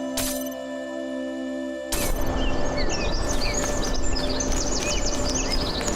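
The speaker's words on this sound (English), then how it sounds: "Those birds are so loud." Loud, dense birdsong ambience in the video game The Talos Principle 2, many overlapping chirps and tweets filling the scene after a brief crash-like burst at the start.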